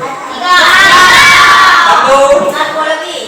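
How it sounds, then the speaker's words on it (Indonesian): Students in a classroom burst into loud cheering and shouting with applause, a sustained close roar of young voices. "Tepuk tangan dulu."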